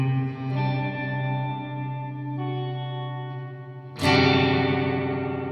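A Chase Bliss Dark World reverb pedal set fully wet washes sustained guitar notes into a thick, shimmering tail, then a sudden louder chord swells in, bright and distorted, with no speech.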